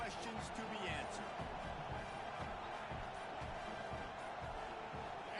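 Steady stadium crowd roar from an NCAA football video game, Baylor versus USC, a dense continuous din with scattered cheers and shouts, loud and unbroken throughout.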